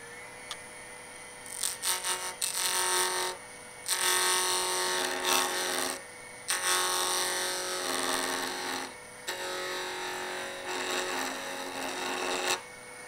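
A wood lathe turns a salvaged bottle stopper blank, a bright buzzing whine broken by gaps where the tool lifts off, steady and close with no talk.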